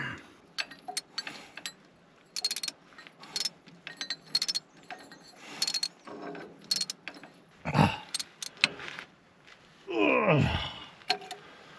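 A bolt with a lock washer and lock nut tightened with a wrench on a cabin build, heard as intermittent metallic ratcheting clicks and clinks close by, with a couple of longer scraping bursts near the end.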